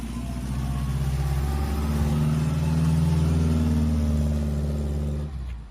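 A Saab Sonnet's V4 Ford Taunus engine revs up and holds a steady, gruff mid-pitched drone close by, then cuts off abruptly near the end.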